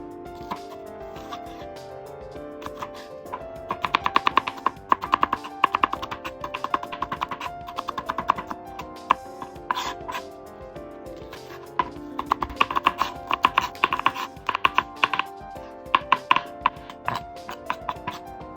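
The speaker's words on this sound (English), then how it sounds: "Cut green onion into fine pieces." A knife chopping green onion into fine pieces on a cutting board, a steady run of quick, light taps in bursts with short pauses between, close and fairly clear over faint background.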